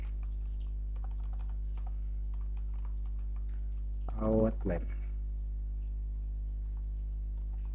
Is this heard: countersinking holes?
no